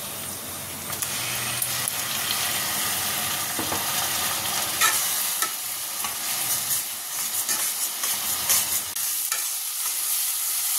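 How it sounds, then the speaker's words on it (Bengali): Ground spice paste sizzles and spatters in a pan with onions fried to a deep red-brown, a steady close frying hiss broken by scraping stirs and small pops throughout, with no talking. "এবার এর মধ্যে দিয়ে দেবো বাটা মশলাটা"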